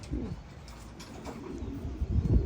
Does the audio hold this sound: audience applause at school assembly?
no